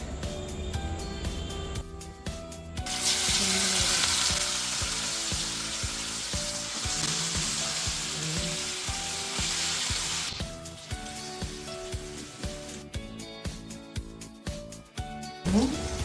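Fish frying in hot oil: a loud, steady hiss of sizzling swells when the pieces go in and continues under background music, then eases as the music returns to the fore.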